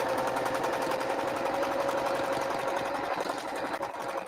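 Close up, a sewing machine stitches fabric placemat pouches with a fast, even mechanical rattle that holds steady and unbroken for the whole stretch, no voices over it.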